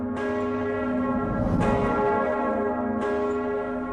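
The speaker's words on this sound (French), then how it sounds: "Il y a la corde là, vous savez, pour sonner la cloche." A church bell in an abandoned hospital, rung by pulling its rope, gives loud resonant strikes about every one and a half seconds, each leaving a long ringing hum between blows.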